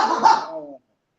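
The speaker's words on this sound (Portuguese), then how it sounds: "O cachorrinho latiu." A small dog lets out a single short, slightly hoarse bark at moderate distance. It fades within a second, leaving silence.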